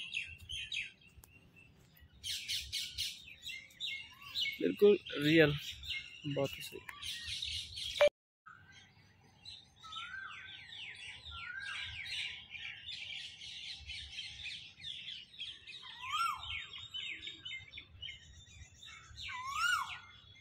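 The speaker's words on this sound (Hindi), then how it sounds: "अभी यहाँ पर देखिए कितनी बढ़िया पंछियों की और गिलहरी जो भी हैं यहाँ पर सभी" Birds chirp and tweet outdoors in a park with squirrels about, many small calls and trills scattered throughout, moderately near, with a brief squawk and someone speaking Hindi over them early on.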